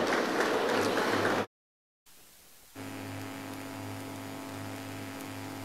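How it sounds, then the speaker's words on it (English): A crowd at a public government event in Ghana gives a round of applause. The clapping is a dense, steady wash that cuts off abruptly, followed by a low electrical hum. "I think a round of applause will do."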